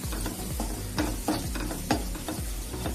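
A spoon stirs peas chaat masala in a hot pan, making rhythmic scraping strokes that repeat every fraction of a second over a steady sizzle, close and clear with no voices.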